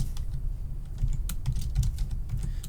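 Continuous fast typing on a computer keyboard while writing code in Unity, a close, dense patter of key clicks and thumps with no talk.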